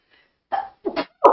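A few short, sharp bursts of breath close to the mic, a sneeze-like expulsion followed by quick coughing snorts.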